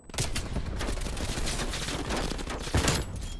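Gunfire from the Black Ops Cold War game, with a dense, steady barrage of rapid shots and a heavier crack near the end, loud and continuous, with no talk.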